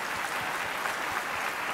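A church congregation claps during a sermon, a dense, steady wash of many hands applauding together that holds at an even level throughout, with no voice over it.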